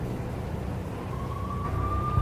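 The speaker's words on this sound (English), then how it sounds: "The NYPD was closing in. I could hear the sirens. Their wail was a crescendo." A police siren from the Max Payne video game begins partway through as a faint, rising wail. It holds as a thin, steady tone above a dull background rumble.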